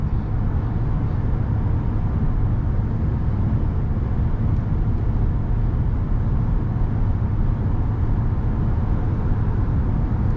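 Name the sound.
heavy pickup truck driving over bumps on a bridge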